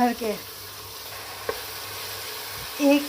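Tomato paste going into chicken frying in a pan, with a steady close sizzle and stirring, a sharp clink partway through and a louder burst of sizzle near the end, no talking.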